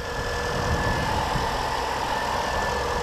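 A Mini One car engine runs at a steady idle with a low, even rumble and a faint knocking texture, nearby and continuous, no talking.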